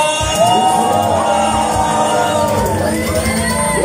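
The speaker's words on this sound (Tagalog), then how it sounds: "Lahat ng mga pinagpala sa gabing ito, sumisigaw!" A crowd at a Filipino praise concert cheers and shouts steadily, voices whooping and yelling together in a loud, continuous wash, with music tones running underneath.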